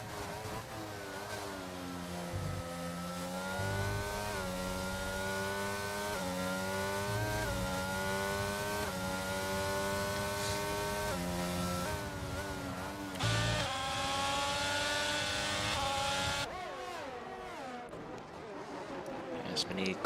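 Race cars in a sim racing game lap a circuit, their engines holding a steady, loud mid-pitched drone with gear shifts and rising revs under continuous commentary.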